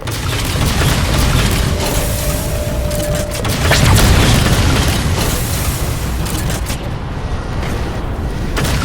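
Heavy explosions strike a Mammoth vehicle in the Halo 4 video game, a loud sustained barrage of booming blasts and rumbling debris over several seconds, with a brief tonal hum early on.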